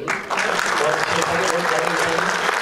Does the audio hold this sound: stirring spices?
no